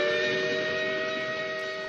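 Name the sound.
train whistle in an animated cartoon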